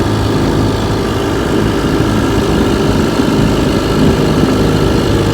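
A restored 1958 Johnson 3 HP outboard motor runs steadily, pushing a 14-foot 1958 Feathercraft boat, its close, loud, even putter continuing throughout without speech.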